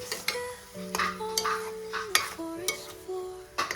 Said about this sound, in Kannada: ಟೊಮೆಟೊ ಉಳ್ಳಾಗಡ್ಡಿ ಬೆಳ್ಳುಳ್ಳಿ ಎಲ್ಲ ಇದು ಮೆಣಸಿನ್ಕಾಯಿ ಎಲ್ಲ ಫಸ್ಟ್ ಕ್ಲಾಸ್ ಫ್ರೈ ಮಾಡ್ಕೊಬೇಕು ನೋಡ್ರಿ